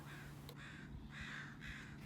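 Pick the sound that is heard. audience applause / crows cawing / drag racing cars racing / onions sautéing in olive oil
crows cawing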